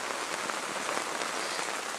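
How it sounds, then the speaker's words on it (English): Steady rain falls outdoors in a dense, even hiss of drops striking a surface, continuous and close for the whole stretch with no voices. "It's raining."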